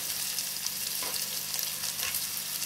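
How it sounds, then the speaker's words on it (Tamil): Ginger garlic paste with a little salt sautés over low heat in a pan, giving a steady close sizzle with faint crackles and stirring scrapes. No one speaks. "நல்லா கொஞ்சம் சிம்மில் வச்சு வதக்கிக்குங்க"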